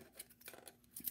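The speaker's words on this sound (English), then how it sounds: "I'm just going to pull off a length of this and cut that off." Scissors snip through beading thread for jewelry making, a few quick, faint metallic cuts in close succession with no other sound.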